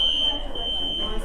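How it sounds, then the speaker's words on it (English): A building fire alarm sounds as a steady, piercing high electronic tone that holds throughout, with a voice talking underneath. "Not one but 2 fire alarms go off."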